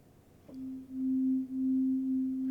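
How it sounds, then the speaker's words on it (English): A pure 250 hertz sine tone starts about half a second in and holds steady and smooth, with its loudness dipping briefly twice before settling. "Going back to the sine."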